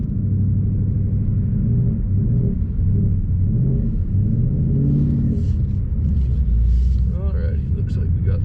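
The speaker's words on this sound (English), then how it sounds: "we're going through a massive snowdrift here" A Ford Mustang pushes through a massive snowdrift, its engine a heavy, continuous low rumble with shifting pitch as it labors, while a voice talks over it.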